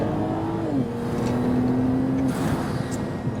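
A BMW E92 335i with a ZF6HP automatic gearbox accelerating hard with wheelspin, its engine droning steadily from inside the car and its pitch stepping as the gearbox shifts under load.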